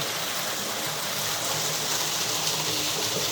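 Steady gushing of water running into a natural hole or spring, a close, continuous rushing wash that holds level throughout without any talk.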